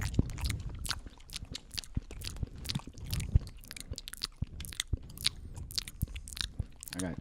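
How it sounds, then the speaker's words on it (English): Close-miked chewing of cherry gum, with wet smacks, clicks and soft crunchy bites in an irregular, intimate rhythm, quiet but very near. "I love listening to people chew gum."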